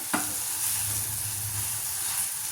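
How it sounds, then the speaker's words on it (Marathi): Peas and chili sautéing in oil on low heat in a pan, a steady soft sizzle with a faint stir or scrape near the start, continuous and close with no voices. "कमी गॅसवर छान असं परतून घ्यायचं आहे"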